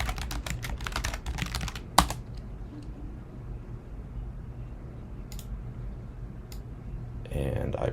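Terminal commands typed on a computer keyboard, quick bursts of close clicky keystrokes at the start, then a sharp key hit, a few scattered taps and a final cluster of typing, with soft talk in the background.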